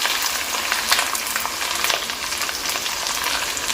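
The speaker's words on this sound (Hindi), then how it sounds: "लहसुन अदरक के पेस्ट को ज़रा सा बस साते करके" Garlic ginger paste sizzles and fries in a pan with a constant hissing crackle that rises and falls slightly as it is stirred, close by and with no voices.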